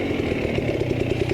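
A dirt bike engine during an enduro hill climb at the 2020 Saddleback Extreme Enduro, a steady throbbing mid-pitched drone held at even revs, close and loud with no talk.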